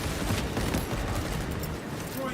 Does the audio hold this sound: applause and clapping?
no